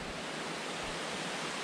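A creek rushes just above Princess Falls on a forest trail, a dense, steady hiss of flowing water heard close and fairly loud, with no voices over it.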